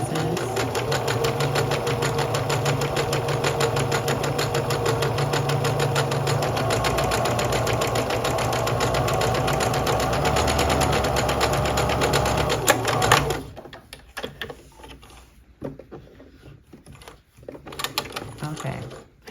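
A Kenmore 385 series sewing machine runs an overcast stitch through two layers of fabric with a fast, steady mechanical whir and rattle that ends abruptly, leaving faint handling sounds.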